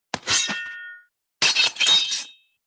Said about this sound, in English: then there was the sword cuts for breaking the code.